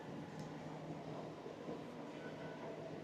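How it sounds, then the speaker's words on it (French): A metro station in Wuhan, China gives off a steady, dense rumble of trains and crowd noise, faint and unbroken throughout. "c'est la station de métro, je vais aller dedans"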